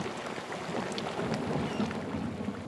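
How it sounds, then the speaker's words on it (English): Steady rain in the video game Pentiment, a dense even hiss of falling water with faint drips, constant and moderately quiet throughout. "Kitty does not like rain"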